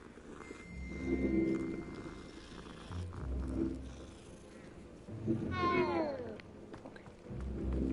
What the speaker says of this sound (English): It purrs. Just like a real cat.